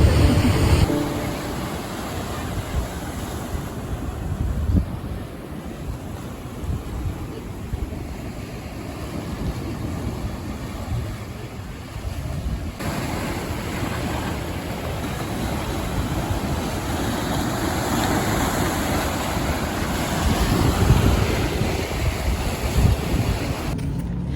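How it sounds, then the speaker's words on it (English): Ocean waves washing against the shore at Sunset Cliffs in San Diego, a continuous surf roar mixed with strong wind buffeting the microphone, no voices. "We're at Sunset Cliffs in San Diego"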